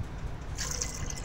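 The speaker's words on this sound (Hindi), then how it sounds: "2 गिलास थोड़ा सा पानी डालना है, ज़्यादा नहीं प्रेशर में डालना" Water is poured into a pressure cooker holding soaked black chickpeas, a brief splashing trickle that begins partway through over low background rumble.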